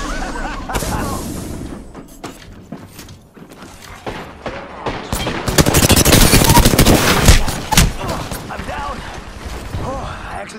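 Heavy gunfire rattles through an Apex Legends match: scattered shots early on, then dense automatic bursts and booming impacts build to a loud, sustained volley, with game voices calling out over the combat.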